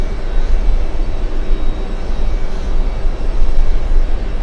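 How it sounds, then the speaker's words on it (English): An American Boeing 777-200 airliner arriving at JFK airport gives off a steady, loud, broadband roar with heavy low rumble, holding constant for several seconds and carrying no voices. "777-200 American 199 flying in from Milan, currently number 2 to land."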